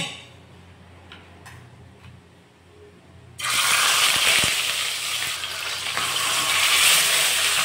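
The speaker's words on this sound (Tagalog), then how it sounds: "Yan mga katoto, magpiprito na tayo." Tilapia frying in hot oil, a sudden loud sizzling that starts a few seconds in and keeps crackling steadily, close up, after a quieter stretch with faint ticks.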